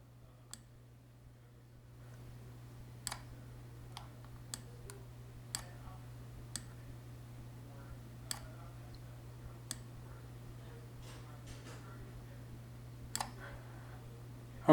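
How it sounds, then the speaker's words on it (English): Computer mouse clicking and dragging while editing in PowerDirector, a scatter of sharp, close, irregular clicks over a low steady hum, no talk. "clicking and dragging."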